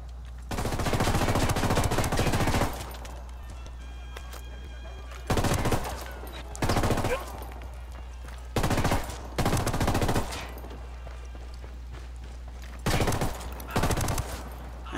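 Machine-gun fire in Ghost Recon Wildlands: one long sustained burst, then several shorter bursts spaced a second or two apart, loud and close over a steady low hum, with no voices.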